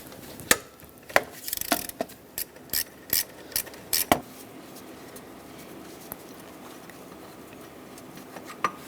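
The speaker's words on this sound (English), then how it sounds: "Use a 13mm socket to loosen up the bolt that holds the pulley" A ratchet with a 13mm socket clicks through a few short bursts while loosening an idler pulley bolt on a 1999-2007 Ford F-350 7.3L Powerstroke, then quiet follows.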